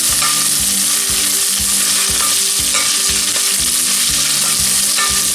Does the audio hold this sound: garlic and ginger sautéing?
yes